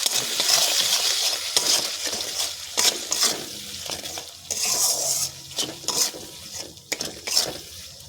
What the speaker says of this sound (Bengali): জলটা দিয়ে আমি মশলাটাকে ভালো করে কষিয়ে নেব।